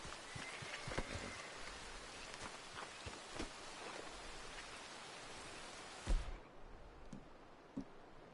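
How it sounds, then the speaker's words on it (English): Steady in-game rain hiss in Red Dead Redemption 2 fills the scene, with scattered drop clicks and soft rustles, before cutting to near quiet toward the end. "Oh, it's raining."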